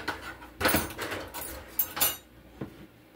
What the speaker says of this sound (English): Let me beat this egg.